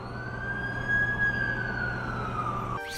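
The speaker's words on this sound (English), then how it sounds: "That's the ambulance I called." An ambulance siren in the Amazing Spider-Man 2 video game wails as one long, steady tone over a low vehicle rumble, then breaks off suddenly near the end.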